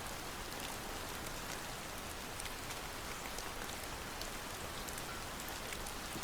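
Rain falls in a dense, steady hiss with close scattered drop patter, constant throughout with no voices.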